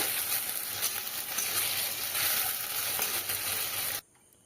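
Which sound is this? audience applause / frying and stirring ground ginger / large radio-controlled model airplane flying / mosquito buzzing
frying and stirring ground ginger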